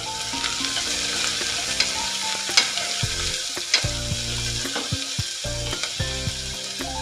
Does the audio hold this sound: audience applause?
no